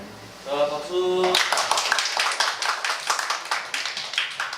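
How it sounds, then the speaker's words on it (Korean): A high-school church group applauds together in a burst of dense clapping right after a voice speaks, the claps continuing steadily to the end. "자, 박수."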